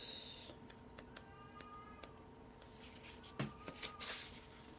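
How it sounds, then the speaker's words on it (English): A cat caterwauls faintly from behind a closed door indoors, with a few scattered yowls and scraping sounds over a quiet room hum, distant and low in level. "Everyone can hear that caterwauling."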